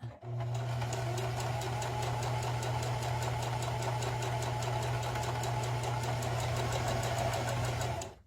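A sewing machine stitches felt for a snowman hat, running steadily for about eight seconds with a fast, even needle chatter over a constant motor hum, stopping cleanly at the end.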